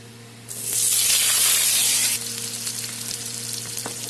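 Whole cumin seeds and potatoes dropped into hot oil for a curry, bursting into a loud, dense sizzle and hiss for under two seconds, then settling into a quieter steady frying crackle.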